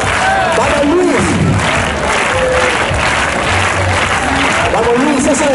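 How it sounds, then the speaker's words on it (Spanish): Crowd applause and cheering at a public event in Casetas, Zaragoza, loud and continuous clapping with shouts and whistles from the audience, and voices calling out over it. "¡Fuerte el aplauso para él!"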